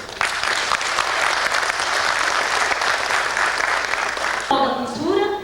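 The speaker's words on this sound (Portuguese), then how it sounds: "Para o aplauso de todos os senhores." A crowd at a community gathering gives sustained, loud applause for several seconds, which stops abruptly and gives way to a voice speaking.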